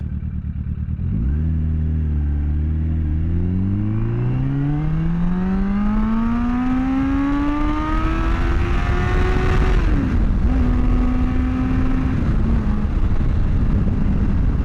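A carbureted motorcycle engine running lean on part throttle revs loud and close, climbing steadily in pitch for about ten seconds, then sags and drops back as it struggles above 11,000 rpm, holding a lower drone to the end.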